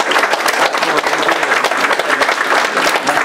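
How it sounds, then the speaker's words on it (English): Loud, dense applause from a crowd fills the whole stretch, steady and unbroken clapping close by. "Let's give these folks a big round of applause."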